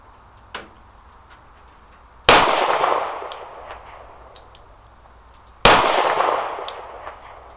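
Two loud, sharp revolver shots from an S&W 432 UC ring out at a shooting range several seconds apart, each with a long decaying echo, plus a faint earlier click.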